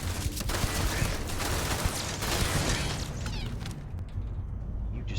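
Enemy gunfire in a Starfield firefight, a dense sustained clatter of shots and pops at moderate level that thins out toward the end.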